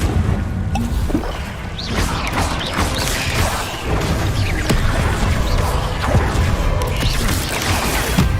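Incendio fire spell cast during combat in Hogwarts Legacy, heard as dense, continuous spell effects with bursts, crashes and whooshes layered over loud game noise, with no talking.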